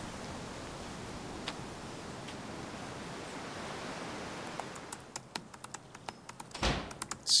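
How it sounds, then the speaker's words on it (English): Hard keystrokes clatter on a laptop keyboard, a run of sharp separate taps emerging from a steady background hiss and growing louder toward the end. "It's typing way too hard for a laptop."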